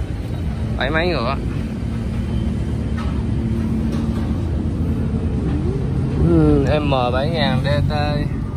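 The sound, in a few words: Kubota M7000 79 hp tractor engine running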